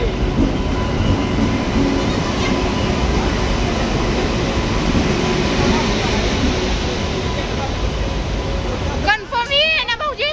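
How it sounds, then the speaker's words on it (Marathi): A passenger train pulls into a railway station with a steady loud rumble and rolling wheel clatter, while people talk nearby and brief squeals or chatter rise near the end. "खूप वाट बघून रेल्वे आलेली आहे"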